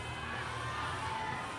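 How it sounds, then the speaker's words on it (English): Spectators at a Jakarta 2023 boulder and lead semi-final climbing competition cheer and shout continuously at moderate distance as a climber moves up the wall. "Every hold is being cheered on by the crowd as he gets another heel in."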